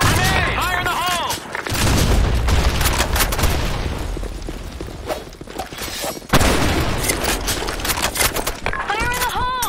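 A grenade blast and gunfire in Counter-Strike on the Office map: heavy booms and rattling rapid shots, with a sharp loud impact midway, and voices calling out over the din.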